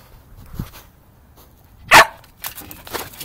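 A puppy gives one sharp, loud bark close by in a quiet room during play, with a softer yip before it and scuffling movement afterward.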